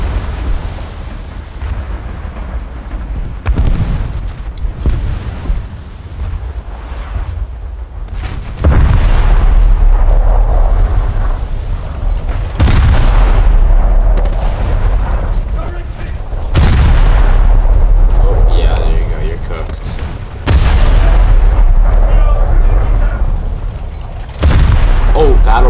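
Heavy booms and explosions blast out in a War Thunder battle as a bridge is destroyed. Several loud deep detonations come in bursts with rumbling decay between them, and a voice talks through parts of it.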